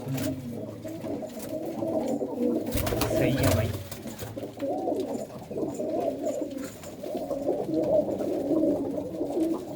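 Pigeons coo in a steady low murmur throughout, at a fancier's loft where an almond-tipped racing pigeon that placed second of 195 birds is shown; someone speaks briefly over the cooing.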